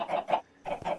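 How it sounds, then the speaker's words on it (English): Chicken clucks from the video game Minecraft, a series of short bursts in two pairs separated by a brief gap, fairly loud and close with no talking. "I'm gonna go ahead and turn my chicken sounds down so that they don't keep bugging me."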